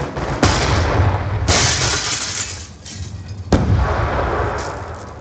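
Grenade blasts and gunfire in a 4v4 Call of Duty match on the Raid map: loud booming explosions with sharp onsets, each decaying into rumbling debris, heard close with no talking.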